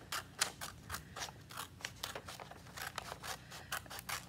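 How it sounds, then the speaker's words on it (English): Scissors cut paper into long strips for a children's miniature book craft. Crisp, close snips repeat in a steady rhythm, each one quiet but distinct, with no talking. "we're gonna cut these so that we have four long strips of paper"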